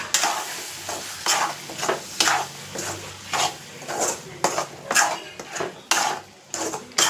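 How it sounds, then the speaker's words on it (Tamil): A spoon stirs frying food in a pan, scraping and clattering in repeated bursts over a steady sizzle, close and fairly loud, with no talking. "இப்போது போட்டு நல்லா கிண்டி விடுவோம்"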